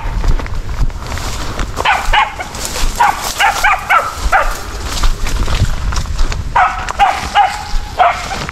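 Hunting dogs bark and yip in bursts over steady outdoor background noise, several rapid calls clustered together, sounding moderately close, with some whimpering between.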